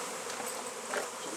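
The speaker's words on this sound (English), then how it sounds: "So the bees' nest has now been transferred into the box" Honey bees buzz steadily in a dense, close swarm as a nest is moved into a nuc box at an engine museum, a continuous hum with no talk.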